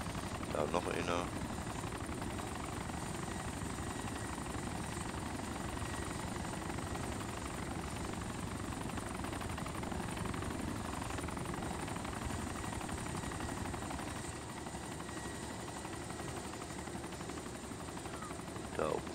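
A helicopter flies in the video game DayZ Epoch, an Arma 2 mod, with a continuous, loud rotor thrum that holds steady for the whole stretch. Short, sharp clicks sound at the start and the end.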